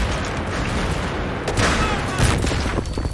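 Grenade explosions and gunfire in an online shooter game, dense bursts of shots and a couple of louder blasts stacked close together over a continuous roar of battle.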